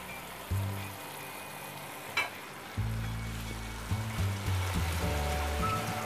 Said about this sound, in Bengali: ঝোল ফুটে উঠেছে, এবারে মাছগুলো দিয়ে দিচ্ছি।